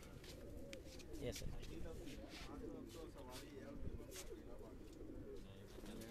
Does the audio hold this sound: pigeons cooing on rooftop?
yes